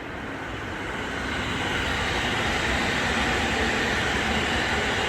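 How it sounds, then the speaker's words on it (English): A Japanese commuter train carrying passengers passes close by, a steady broadband rush and rumble of wheels on rails that swells slightly and holds loud for several seconds with no voices. "That's a commuter, and it's got people in it."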